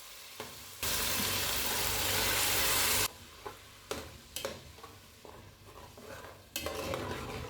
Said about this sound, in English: I'll fry it into the oil until the color changes to something brighter.